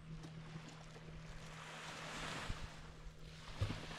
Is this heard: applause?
no